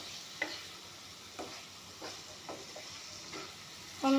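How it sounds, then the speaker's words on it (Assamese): Spice powder and salt fry quietly in a pan for a paneer, cashew and tomato curry, with a soft low sizzle under several distinct stirring scrapes and taps spaced apart and a slightly louder clatter at the very end. "এইখিনি ভাজি ল'ম।"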